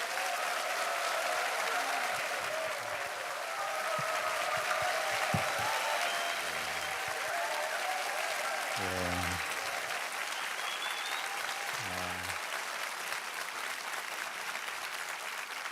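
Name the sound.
church congregation applause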